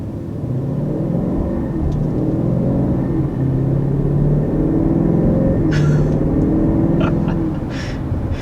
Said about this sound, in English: on that acceleration, you were probably noticing maybe a little bit of the transmission. Since that engine is so loud, you can kind of hear it shift a little bit.